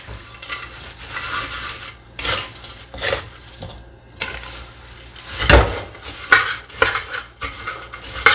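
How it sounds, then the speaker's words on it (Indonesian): Peanuts and anchovies are stirred together in a bowl with a utensil, producing steady rattling, scraping and clinking, close up, with occasional louder knocks. "Ini kacang tanah masuk. Ikan teri juga masuk. Sekarang kita aduk-aduk ya."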